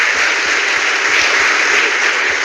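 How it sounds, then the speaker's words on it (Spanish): Auditorium audience giving a steady round of applause for a professor after a talk, dense continuous clapping at full volume with no speech over it. "un aplauso de agradecimiento al profesor Figueroa"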